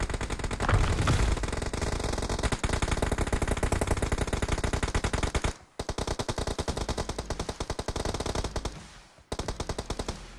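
Rapid bursts of automatic gunfire in PUBG Mobile rattle continuously, broken by a couple of brief pauses, loud and close like combat.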